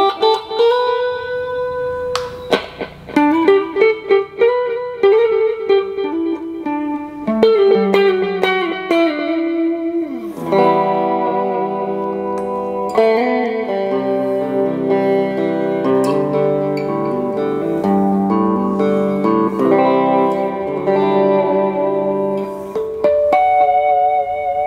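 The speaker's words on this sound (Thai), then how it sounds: "นี่คือเสียงดีเลย์นั่นเองนะครับ" Electric guitar played through a budget Kazuki KA-40 amp with a delay effect, each plucked note and chord echoing and trailing off in repeats that build into a sustained wash.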